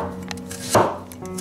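Knife chopping scallions finely on a board for hot and sour soup, a few quick light taps with one sharper, louder chop near the middle, close and alone.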